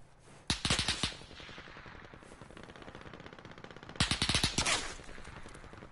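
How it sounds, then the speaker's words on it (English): Gunfire in the battle-royale shooter Warzone: two loud bursts of rapid automatic shots, one near the start and another about three seconds later, with quieter in-game ambience and scattered distant pops between them. "Where are those shots coming from?"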